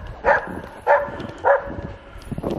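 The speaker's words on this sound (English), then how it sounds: "Just think there's a lot of racing dogs in there." Racing sled dogs at an old kennel bark in three distinct bursts about half a second apart, fairly close, with softer whimpering and yips between them and near the end.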